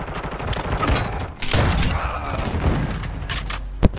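Rapid automatic gunfire in Call of Duty: Modern Warfare 2 played on keyboard and mouse, a dense continuous burst with one sharp loud shot near the end, under lively players' chatter.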